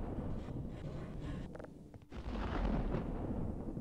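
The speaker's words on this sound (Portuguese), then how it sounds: "Eu vou dar um tiro aqui." In Half-Life: Opposing Force a loud gunshot booms, then a deep, rumbling blast that fills the low end and rolls on for a second or two, with steady game background noise before it.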